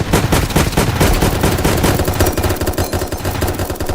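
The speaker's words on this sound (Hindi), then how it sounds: "मेरे पास ऑटो गन है।" Rapid automatic gunfire from an auto gun in a zombie shooter game, a dense, loud, continuous stream of shots running through the whole stretch with no pauses.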